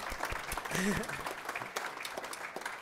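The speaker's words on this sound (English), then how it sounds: "we can all applaud" Light applause from a conference audience at a Spark data-analysis talk, scattered clapping partly under a speaking voice and background murmur, fairly faint and brief.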